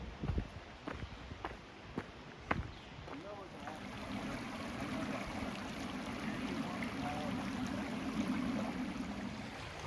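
A creek flows steadily beside the Appalachian Trail at Justice Creek, a soft, continuous rushing that builds after a few sharp knocks and footstep-like thuds at the start, heard close and alone with no talking.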